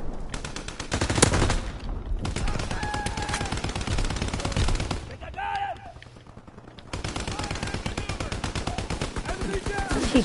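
Rapid bursts of automatic gunfire and whizzing bullets in Call of Duty: WWII, loud dense volleys in long stretches broken by a short lull, with a voice talking faintly underneath.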